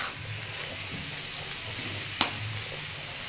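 Spice paste with salt and potatoes being stir-fried in a pan until the oil separates: a steady close sizzle with one sharp utensil clink partway through.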